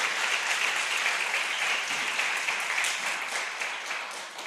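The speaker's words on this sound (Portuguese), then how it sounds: "Vamos dar um aplauso para Jesus" A church congregation at a prophetic conference applauds for Jesus, steady broad clapping from a large crowd that fills the room evenly and holds at a constant level throughout, with no voice above it.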